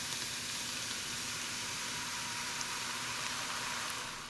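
Sauce poured into hot oil infused with garlic and ginger, in a pan of Korean fried chicken in the making, sets off a steady, loud, unbroken sizzle and hiss with no talking.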